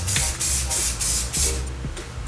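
A spray paint can sprays yellow paint in several short bursts of loud, close hissing separated by brief pauses, with faint clatter in between.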